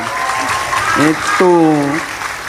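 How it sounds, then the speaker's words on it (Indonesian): Applause from a mosque congregation during a Friday sermon, a steady wash of clapping running under a voice throughout. "Nah, kerungu tepuk tangan."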